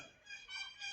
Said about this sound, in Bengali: প্যারাকিট মানে টিয়ার ডাক, বড় বড় টিয়া রয়েছে এখানে।